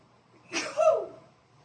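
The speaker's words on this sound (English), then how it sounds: "I sneeze" A single sneeze close by: a short sharp intake and burst, then a brief voiced tail, with near silence before and after.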